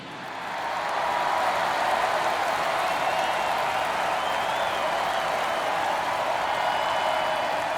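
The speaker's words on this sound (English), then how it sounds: "The crowd is amped up, ready to get this season underway" A steady, roaring stadium crowd cheers on opening day in MLB The Show 23, swelling in over the first second and then holding a constant wash of applause and crowd noise.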